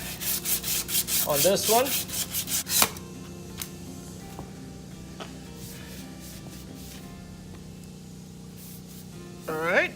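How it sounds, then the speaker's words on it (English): Fine sandpaper rubbed lightly over a Mercruiser Pre-Alpha outdrive part, giving a few seconds of close, rhythmic scratchy strokes. Someone talks over the opening, then quieter workshop background follows. "I'm just gonna use some fine sandpaper, just go over it lightly."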